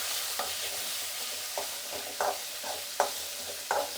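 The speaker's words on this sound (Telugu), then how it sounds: "ఎర్రగడ్డ, అలాగే తెల్లగడ్డ, ఎండుమిర్చి ఇవి వేసుకొని వేయించుకుందాము." Onion, garlic and dried red chillies fry with cumin and pepper in a pan, giving a soft continuous sizzle broken by several scraping stirs of a spoon against the pan.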